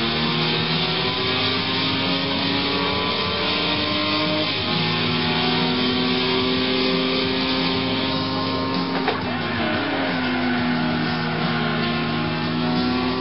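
Car engine in a racing video game driven with a Logitech GT Force Pro steering wheel: a steady, continuous droning engine note with gradual pitch shifts as it revs and shifts, loud and unbroken.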